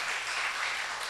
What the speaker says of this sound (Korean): 박수죠. 그렇죠?